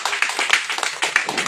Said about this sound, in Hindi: एक बार ताली होनी चाहिए भाई।